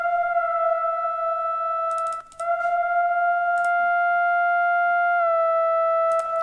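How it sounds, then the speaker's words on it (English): A steady synth note holding a sustained tone with bright harmonics, dry level lowered so the reverb tail dominates; brief gaps and faint clicky bursts interrupt the held pitch. "I wanted more of the echo sound coming in rather than the actual note playing"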